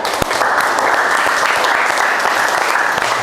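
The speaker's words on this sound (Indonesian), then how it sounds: "Marilah kita tepuk tangan, oplos kepada kelompok 3." A classroom group of teachers-in-training gives a burst of steady, dense hand clapping for a presenting discussion group, loud and continuous throughout without talk.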